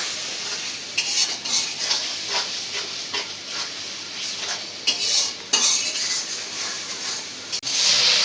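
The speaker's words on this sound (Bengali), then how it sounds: "এখন মশলাটা ভালো করে কষায় নিবা" Ginger-garlic paste and spices frying in a pan for a koi fish and mixed greens dish, with a continuous hissing sizzle and repeated scraping and clinks of a utensil stirring against the metal, up close.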